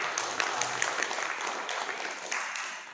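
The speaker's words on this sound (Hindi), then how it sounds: "उनके लिए ताली होनी चाहिए" Hands clap in a round of applause for the monthly members at a Hindu religious discourse, a Kartik Mahatmya katha. The clapping is steady and fairly soft, with crisp individual claps standing out over a faint hum of voices.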